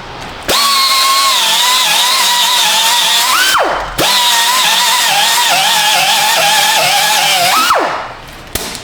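A power tool whines loudly as it polishes the rear wheel bearing hole on a Toyota Prius, running in two long steady bursts that spin up, hold, and wind down with a brief pause between.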